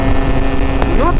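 A Gilera 50cc moped engine drones loudly against heavy wind rush, its pitch rising near the end as it accelerates.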